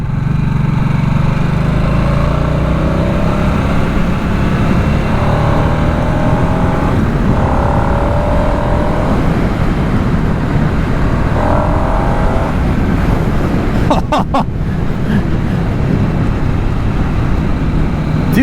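Harley-Davidson Nightster 975 motorcycle on the move, a steady loud engine drone with wind rush running throughout, rising and falling slightly in pitch as the rider works the throttle, with brief clattering bursts near the end.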